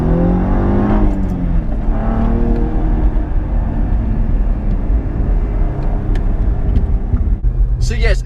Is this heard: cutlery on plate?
no